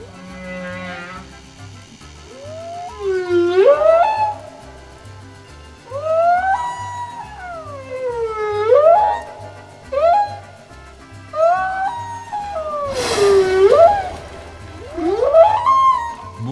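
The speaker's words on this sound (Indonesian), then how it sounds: "Suara itu berasal dari paus yang sedang bernyanyi." Whale song: long, loud rising and falling moaning calls repeat every few seconds, each swooping upward in pitch, over a low pulsing backdrop with no talk.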